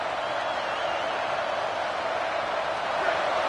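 Football stadium crowd roaring steadily in support of the defense during a red-zone stand, a dense, continuous wash of cheering with no break.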